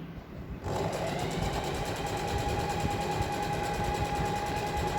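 An electric sewing machine stitches a folded strip for a skirt belt loop, starting after a short quiet moment and then running as a steady, fast, rattling whir with a constant hum, close and unbroken.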